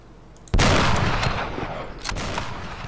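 A single loud sniper rifle shot from a KSVK in a video game cracks sharply and close, then a long booming echo rolls off and decays, with a fainter thud shortly after.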